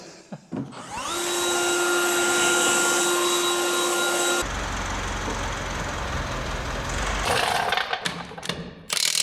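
Compressed air blasts dust off restored telehandler parts in a steady, loud hiss lasting several seconds, shifting to a rougher rushing tone midway before sputtering out in short bursts.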